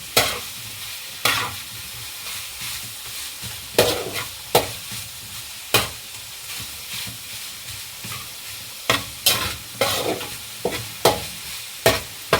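Ground meat frying in a pan for pansit bihon, a steady sizzle broken by repeated sharp scraping stirs of the spatula at irregular intervals, close and clear with no talking.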